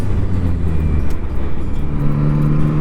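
A Yamaha MT-09 SP motorcycle accelerates into a curve, its engine droning loudly and rising in pitch under strong wind rush at close range.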